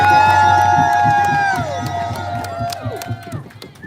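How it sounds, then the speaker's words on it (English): A rally crowd cheers and applauds loudly, with whistles and shouts over dense clapping that fades gradually toward the end. "Let's give another big round of applause for the one and only Feel free"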